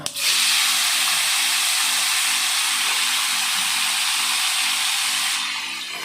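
Potatoes hit a hot pan of oil for a Goan okra and potato dish, setting off a loud, steady sizzle that starts abruptly and holds, easing slightly near the end.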